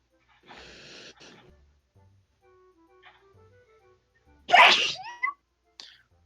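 A sharp, loud sneeze close by after a brief breathy intake, with a faint squeaky whimper-like sound just after.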